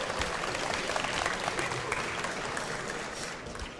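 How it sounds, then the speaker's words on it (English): A conference audience at the 34C3 Chaos West Stage gives a short burst of steady clapping, a continuous crowd wash lasting a few seconds without talk. "A little applause to Dimi, please."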